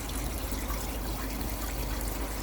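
Water circulates through a garden pond filter, a steady close trickling and splashing flow with no voices.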